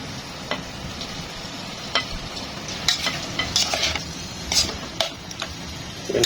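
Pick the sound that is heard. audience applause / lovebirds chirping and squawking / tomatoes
tomatoes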